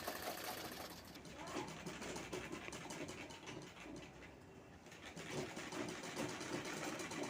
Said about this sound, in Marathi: पिन लावून व्यवस्थित शिवून घ्यावं लागतं